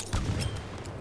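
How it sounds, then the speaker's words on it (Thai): A burst of booming blasts and rumbling impacts from explosions in the video game Battlefield 2042, heavy and loud, with a sustained low roar after the initial hit. "ขอทดสอบระเบิดก่อนเลยแล้วกัน"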